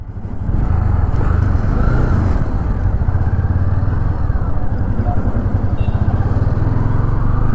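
A 2024 Honda CB300F, a 300cc oil-cooled four-stroke four-valve motorcycle, runs steadily through a U-turn. Its engine drones close and loud from start to finish with no break.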